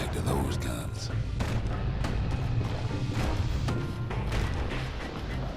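Gunfire from a security skiff's mounted guns in Bastion, a dense barrage of booms and thumps pounding continuously under game music, loud and close throughout.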